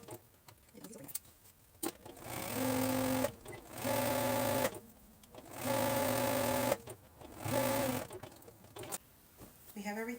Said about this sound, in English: So let's go sew this.